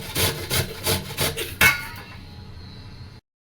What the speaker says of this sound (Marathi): सगळे बीट आपल्याला खोबरं किसून घ्यायचे आहेत।